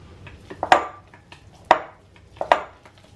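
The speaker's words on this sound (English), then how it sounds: "And I mash it out with the potato masher." Three ripe bananas are crushed in a bowl with a metal potato masher, giving three sharp, separate clanks of metal on the bowl, close and clear, with no talking.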